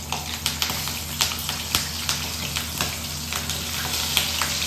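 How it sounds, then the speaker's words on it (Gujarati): Green chillies frying in hot oil after a batch of chana dal vadas, a dense close sizzle with sharp spitting pops and crackles repeating throughout, no speech. "હવે આપણે મરચા તળી લઈશું"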